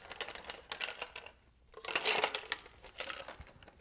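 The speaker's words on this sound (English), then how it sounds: "We will fill the glass to the top with ice." Ice poured into a glass to the top for a mojito, two bursts of clattering, crunching cubes knocking against glass, close and fairly loud, with a brief gap between them.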